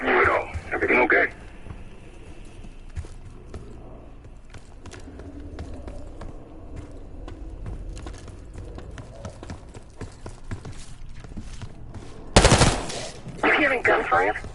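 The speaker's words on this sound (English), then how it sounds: "Hearing gunfire? Yeah, sounds like it's coming from one of the lower floors." Gunfire from the lower floors of a building in a Call of Duty game, heard as faint rapid bursts and scattered cracks beneath a low ambient rumble, with a louder sharp blast near the end and short bursts of talk at the start and finish.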